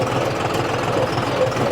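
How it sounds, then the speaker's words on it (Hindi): John Deere tractor engine running steadily in second gear on a rough dirt farm track, a loud continuous diesel rumble with knocking texture throughout. "इसमें सेकंड गियर में ट्रैक्टर चल रहा है"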